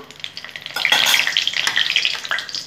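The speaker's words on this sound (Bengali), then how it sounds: "একটা শুকনো লঙ্কা ফাটিয়ে দিয়ে দিলাম।" A dried red chili crackles in hot oil, with a sharp burst of sizzling and popping that swells and then settles into a steady, close frying hiss.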